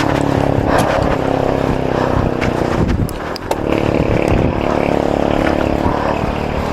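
Motorized tricycle engine passing on a road, a loud continuous buzzing drone with gusty wind noise, swelling and fading as it goes by.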